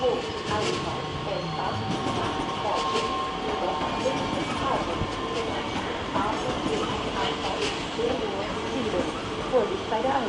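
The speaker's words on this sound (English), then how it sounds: "Talent 2 train not in service" A Talent 2 train, not in service, runs through München Hbf with a steady rolling rumble and faint wheel clatter, a high whine threading through. The sound stays level throughout with a murmur of voices beneath.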